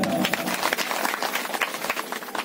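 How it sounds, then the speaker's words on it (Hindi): Hands clapping among a group gathered at a village religious meeting, a fairly quiet, scattered patter of claps with an uneven rhythm and some crowd murmur underneath. "ताली बजाना"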